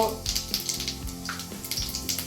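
Mustard seeds crackle and pop in hot oil as tempering starts for a festive raw mango chitranna, a steady close sizzle with sharp bursts of spitting.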